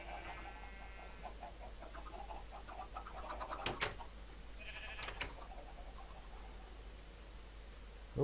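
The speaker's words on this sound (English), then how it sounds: "All the various different colours of sheeps." Minecraft sheep bleating in the video game, a few faint calls over quiet background noise.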